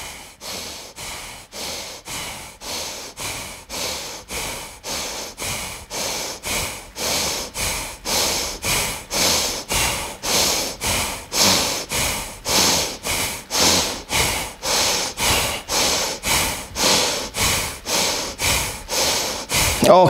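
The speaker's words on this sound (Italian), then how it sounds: "Inspiriamo per 20 secondi, e quindi 20 respirazioni" Deep, steady breathing in a mudra concentration exercise, about twenty long regular breath cycles in a row, close and fairly loud, with each inhale swelling in hiss and no talking over it.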